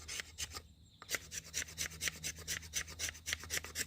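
A Beavercraft BSH1 knife scrapes fat wood in a steady rhythm of close, rasping strokes, roughly three per second, after a brief pause early on.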